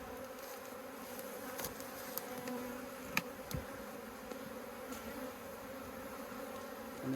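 Bees buzzing around beehives in a garden, a continuous dense hum of many insects close by with occasional louder passes, no talk.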